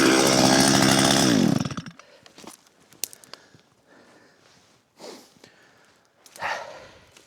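A chainsaw roars loudly and steadily while felling a dead spruce tree, then cuts off after about two seconds, leaving quiet woodland with scattered clicks, rustles and faint knocks.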